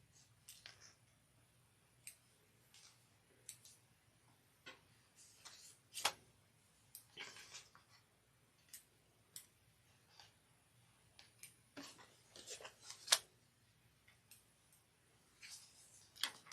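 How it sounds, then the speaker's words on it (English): Small scissors snip loose threads on a freshly sewn fabric pouch, giving faint, sparse clicks and snips scattered across a quiet background with a low hum. "we're going to trim up some threads"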